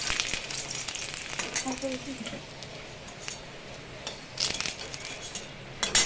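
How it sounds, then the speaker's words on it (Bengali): Dried red chillies and garlic fry in hot mustard oil, giving a steady close sizzle with light crackling bursts and a brief faint voice in the background. "দুটো শুকনো লঙ্কা ভেজে তুলে নেব। রসুনটাকে একটু ভেজে তুলে নেব।"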